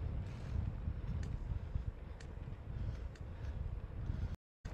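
Strong wind buffeting outdoors on a road trip in southern Spain, a steady low roar with rumbling gusts throughout, briefly cutting out near the end.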